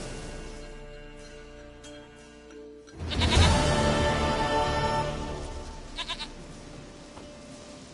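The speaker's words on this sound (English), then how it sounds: "Goat of mine, dearest, sweetest goat." A goat in the video game The Witcher 3 bleats against a quiet tonal background, a loud wavering cry that swells and slowly fades, followed by a few faint short bleats.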